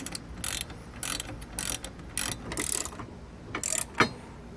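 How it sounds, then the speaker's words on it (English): A ratchet snugging down hardware on a Roadmaster crossbar-style tow base plate for a 2020 vehicle: repeated quick bursts of rapid clicking, about seven strokes in a loose rhythm, close and clear with no talking. "And now we can snug down our hardware."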